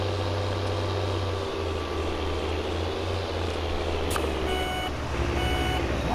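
A large truck rumbles close by with a steady low drone while its reversing alarm beeps in a regular repeating pattern near the end, set against outdoor background noise.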